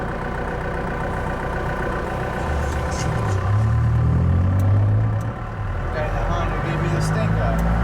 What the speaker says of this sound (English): I leave it in first gear.